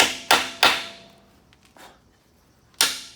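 Sharp metallic hammer taps on a part of a Farmall F20 tractor: two quick strikes, a pause with a faint knock, then two more, each loud and close with a brief ringing decay.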